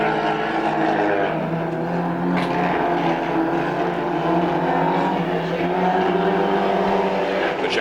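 4-cylinder Division 2 handicap race cars at Archerfield Speedway during the 1997 King of the Ring meeting; a loud, continuous engine roar drones steadily throughout as the pack races on.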